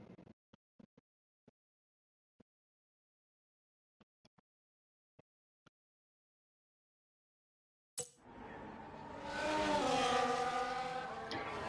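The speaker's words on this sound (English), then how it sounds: "We have the first driver out on track, which is Limitless Draco in the McLaren." Race cars in a racing video game at the Spa circuit, with a McLaren among them: sparse faint clicks give way to a sudden loud, sustained engine roar that builds and holds steady.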